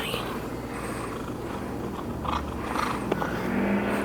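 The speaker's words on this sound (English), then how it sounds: "You're still purring." A cat purrs close up in a soft, continuous rumble that holds steady throughout.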